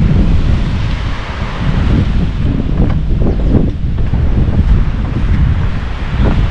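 Waves breaking on a Sardinian beach with strong wind buffeting the microphone, a loud, continuous rumbling roar with surging swells and no speech.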